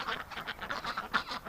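Ducks quacking in winter, a quick run of faint, nasal, overlapping quacks in uneven bursts, somewhat distant.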